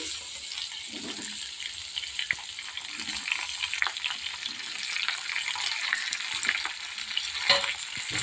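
Mango pieces fry in oil with panch phoron spices while a sweet-sour-spicy mango pickle is being made, giving a steady moderate sizzle with occasional stirring scrapes.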